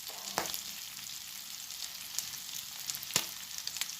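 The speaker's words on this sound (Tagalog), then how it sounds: "Piniprito ko na para maluto ang laman, syempre." Pork adobo frying in a pan, a steady close hiss of sizzling oil with a few sharp pops and spatters breaking through, and no voices.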